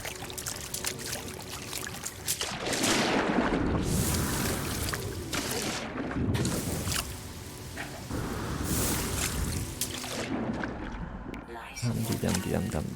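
Footsteps slosh and splash through shallow water in the video game No Man's Sky, the watery churning rising and falling in waves under a speaking voice.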